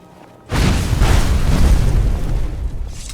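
Fire spell cast at a pedestal in Skyrim, a sudden loud whooshing burst that roars on for about two and a half seconds before slowly fading.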